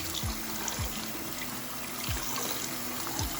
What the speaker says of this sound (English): you can take your hands and you can run them under some warm water